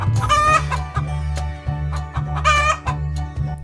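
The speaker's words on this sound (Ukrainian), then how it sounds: "Курочка дзьобає дзернятка. Ось так тік-тік-тік-тік-тік-тік-тік. І каже ко-ко-ко." A chicken clucks loudly and repeatedly in short bursts, close by, over a constant low hum.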